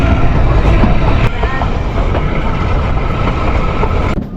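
The Kalka–Shimla toy train runs along its narrow-gauge mountain railway, heard from inside a carriage as a continuous loud rumble and rattle of wheels and coach with no voices.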